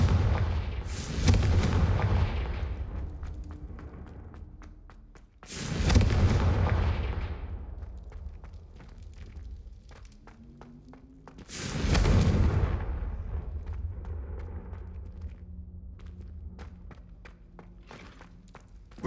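Three heavy, booming Confringo spell blasts in the Hogwarts Legacy video game, spaced several seconds apart, each followed by a long rumbling decay, with faint footsteps and clatter between them.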